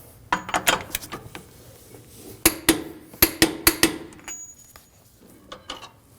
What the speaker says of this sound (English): We're going to just peen the nut down here so it can't back itself off.